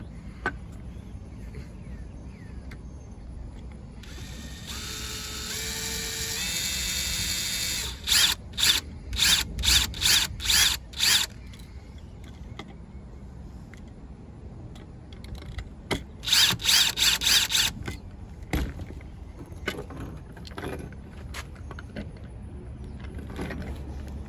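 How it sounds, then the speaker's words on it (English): A power drill whirs in several short bursts, winding up and stopping as it drives a screw into a Lionel model train car, with a couple of sharp pulsing runs near the end. "and drill the screw in."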